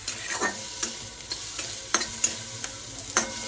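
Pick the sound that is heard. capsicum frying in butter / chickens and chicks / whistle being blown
capsicum frying in butter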